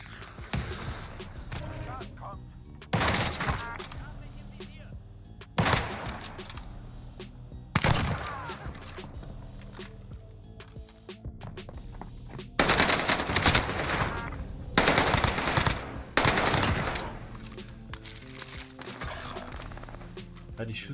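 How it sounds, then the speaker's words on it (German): Bursts of rapid Warzone Caldera gunfire, some sustained like automatic weapons, recur over a steady rumbling background, with voices faintly present. "Ja, die Schüsse schießen."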